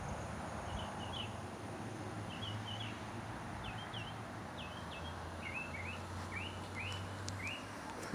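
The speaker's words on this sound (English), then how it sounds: "Listen to the birds, that's what I'm gonna do." Small birds chirping outdoors, a string of short bright calls repeating every half second or so through the whole stretch, moderately distant over a steady low background hum.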